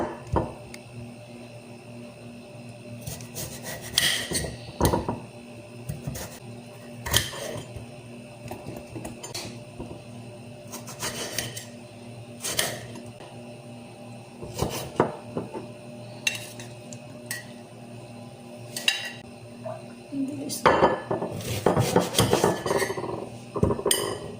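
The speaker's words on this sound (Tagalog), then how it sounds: "Pahiwa-hiwain ako ng patatas, sibuyas, kamatis." Knife strokes slice potatoes, onions and tomatoes, with repeated sharp taps and clinks on a board or plate at an uneven rhythm, close and moderately loud, busier near the end.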